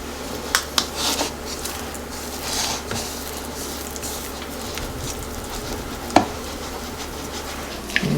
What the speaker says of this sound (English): Just mix everything around so that it all gets nicely incorporated.